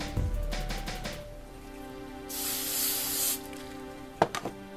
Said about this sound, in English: you're going to take a little bit of hairspray